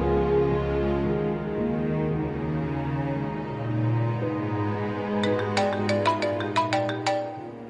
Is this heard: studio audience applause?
no